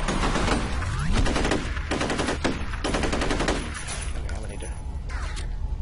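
Rapid enemy machine-gun fire in the F.E.A.R. first-person shooter, several loud staccato bursts in quick succession with sharp impacts and clatter, a voice speaking over parts of the shooting.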